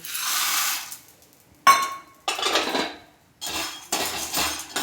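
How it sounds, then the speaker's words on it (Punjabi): Dry chickpeas are poured into a pan of hot roasting salt in a home kitchen, making several separate bursts of gritty, rattling hiss, each a second or so long with short pauses between, close and fairly loud. "ਹੁਣ ਇਹਦੇ ਵਿੱਚ ਪਾਵਾਂਗੇ ਅਸੀਂ ਚਨੇ"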